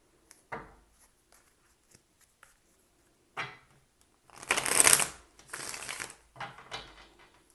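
Tarot cards are shuffled in a quiet room: a few soft taps and riffles at first, then a louder run of riffling and card slaps lasting several seconds.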